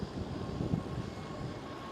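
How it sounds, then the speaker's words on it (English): A Ryanair Boeing 737 MAX jet passes at Amsterdam Schiphol, heard as a moderate, steady engine rumble that neither rises nor fades through a brief stretch. "There goes Ryanair 737 MAX 8200."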